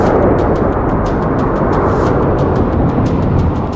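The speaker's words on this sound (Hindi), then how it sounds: "और फिर जमीन पर जोरदार धमाका होता है," A loud, sustained rumbling roar with dense low-end energy, like a big explosion or blast rolling on for several seconds without pause.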